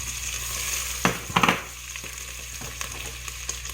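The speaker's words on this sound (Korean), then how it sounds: "자, 이제 또 열심히 볶아줍니다." Onion and zucchini stir-fried in a pan, a soft steady sizzle with a few louder scraping clatters of a utensil against the pan near the middle.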